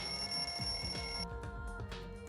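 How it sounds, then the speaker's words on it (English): A wall clock alarm in the Danganronpa 2 video game rings steadily and loudly like a telephone bell, with a repeating pulsing rhythm throughout. "The lounge's wall clock alarm started ringing at 5:30."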